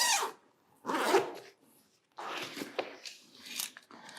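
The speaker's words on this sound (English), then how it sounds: "I'm going to unzip the tripod." A zipper on a Sachtler tripod bag is pulled open in several close, raspy strokes separated by short pauses.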